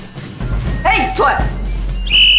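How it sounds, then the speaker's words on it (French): A whistle blown by a school supervisor, a short sharp shrill blast near the end, loud and close, following brief vocal sounds and room noise. "qu'est-ce que vous faites avec un sifflet?"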